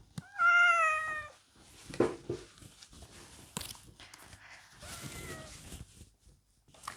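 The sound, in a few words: tomcat meowing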